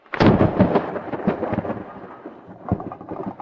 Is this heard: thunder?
yes